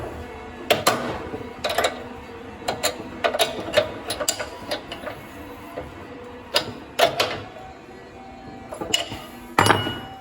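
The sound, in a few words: tightening a nut on a Pallmann Cobra 09 floor machine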